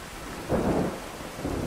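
A thunderstorm in Skyrim with the True Storms mod: steady rain hisses while a low rumble of thunder swells briefly and then fades back into the downpour.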